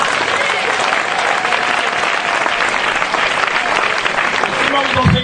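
A congregation at a prayer meeting applauds loudly and continuously, with dense close clapping from a large crowd and faint voices mixed in.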